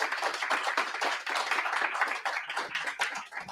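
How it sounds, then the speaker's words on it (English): A small tech meetup audience applauds a speaker, a dense, continuous patter of close hand claps from a modest crowd lasting a few seconds without a break. "Please let's get a round of applause for Derek"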